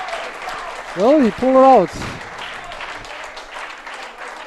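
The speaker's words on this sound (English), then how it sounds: "And the crowd goes wild here in Montfalcone." Crowd applause after a 9-ball pool shot at a Euro Tour semifinal in Italy: a short burst of clapping swells under a commentator's voice, then fades as he keeps talking.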